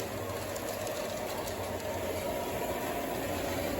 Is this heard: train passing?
yes